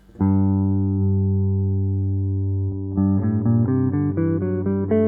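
A clean guitar rings a low sustained note, then climbs through a stepwise run of single notes in G melodic minor, clear and close with no voices.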